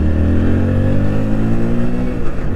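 A Hero Splendor Xtec 2.0 motorcycle with a 97 cc engine runs at a good speed over rough, potholed road, its loud, steady engine drone continuing throughout with a slight revving wobble.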